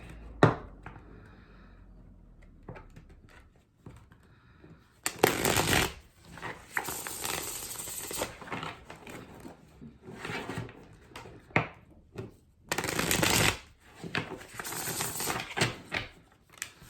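Tarot cards being shuffled in two separate bursts of crisp, rapid riffling, close by, with quiet handling sounds between them.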